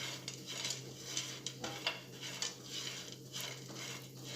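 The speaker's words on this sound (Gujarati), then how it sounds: "હવે પિસ્તાને કાજુને પણ આ રીતે આપણે સાતળી લઈશું।" Cashew pieces and pistachios stirred in a pan for khajur pak, a spoon scraping and clinking against the metal in quick irregular strokes, quiet and close with no talk.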